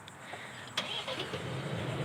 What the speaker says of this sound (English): quickly gets that engine running quickly, and just by pushing the lock and then double tap the remote start